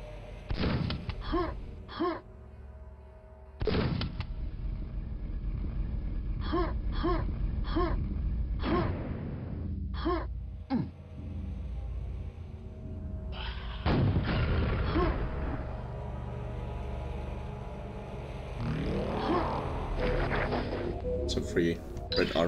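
Weapon shots fired at buttons in Quake: a series of sharp booming blasts, some in quick clusters and some spaced apart, ringing out over a low ambient hum while someone talks between them.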